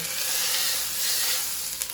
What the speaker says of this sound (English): Get that nice sizzle going.